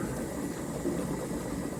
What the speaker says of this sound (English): Okay, there's a steady stream coming out of there.